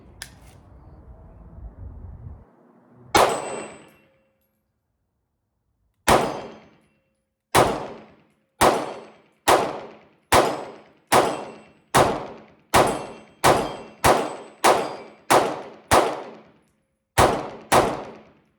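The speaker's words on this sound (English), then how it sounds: "All right, Staccato CS. I'm gonna shoot it at 25 yards. Let's see how we can do on a C-zone steel." Staccato CS pistol fired at a C-zone steel target 25 yards away: a single shot with a metal clang, a pause, then a steady string of about a dozen sharp shots, each ringing off the steel, loud and close.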